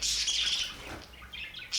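Budgerigars chirp and squawk sharply up close, a brief noisy flurry of high calls as they squabble with each other.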